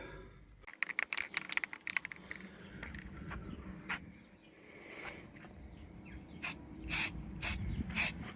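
Short hissing spray bursts from an aerosol can outdoors on a windy day, several in a row, mixed with clicking and rattling, then longer hisses near the end.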